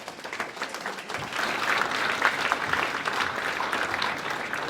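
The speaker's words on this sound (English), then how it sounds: "Round of applause for Colleen." A crowd applauds steadily at a grand marshal reception, dense clapping swelling slightly after the first second and continuing evenly throughout.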